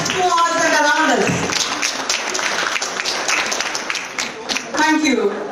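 An audience at an HR professionals' lecture applauds, scattered clapping that mingles with a voice speaking over it from start to finish.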